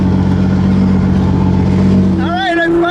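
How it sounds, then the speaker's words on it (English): A Ferrari 812 Superfast with a Ryft exhaust roars loudly and continuously, its engine revving and accelerating with a dense, rising growl before easing off near the end. "This guy's been having so much fun revving, accelerating."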